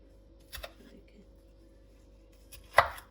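A knife cuts capsicum on a board, giving two short, crisp chopping knocks a couple of seconds apart over a quiet background.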